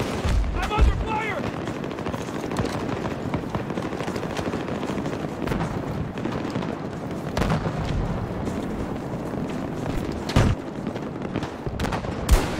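Battlefield 2042 combat: bursts of automatic gunfire and scattered heavy blasts roll on continuously at loud, close range, with a few sharper individual shots standing out and a brief voice heard early on.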